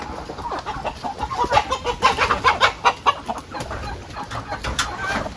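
Rooster and hens clucking on a village farm in Chitral, a dense, continuous chatter of many close birds in rapid uneven bursts over steady outdoor background noise.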